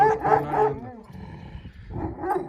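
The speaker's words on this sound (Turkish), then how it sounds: "çok mükemmel bir davar köpeği" A sheepdog raised among the flock gives a few close, sharp barks and yips in a short burst, with a brief pause before the last one.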